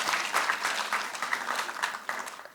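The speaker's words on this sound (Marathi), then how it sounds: "एकदा जोरदार टाळ्या त्यांच्यासाठी आपण सगळ्यांनीच वाजवूयात" A crowd at an awards ceremony applauds women being honoured. The clapping is loud, dense and sustained for a couple of seconds, then tapers off at the end.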